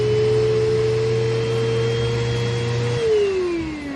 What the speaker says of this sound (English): a pet grooming vacuum cleaner